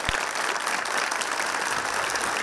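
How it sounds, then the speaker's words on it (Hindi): A studio audience on a comedy quiz show breaks into steady, dense applause that fills the whole stretch at close range, with no talking over it. "तालियां"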